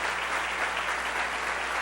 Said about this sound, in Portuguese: aplaudindo carinhosamente a Deus